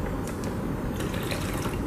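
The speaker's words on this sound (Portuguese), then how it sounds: "eu até posso colocar um pouquinho mais de água aqui" Water is poured onto soil in a self-watering pot, giving a constant close splashing gush with no pauses and no talk.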